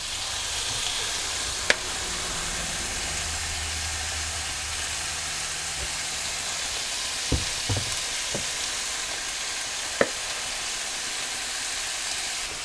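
Walleye fillets fry in a hot pan with salt, pepper and seasoning, giving a constant broad sizzle broken by a few sharp clicks and knocks of a utensil, close and steady, with no voices.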